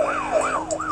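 A police car siren in Need for Speed: Most Wanted wails loud and close, sweeping up and down in steady repeating cycles with no talk over it.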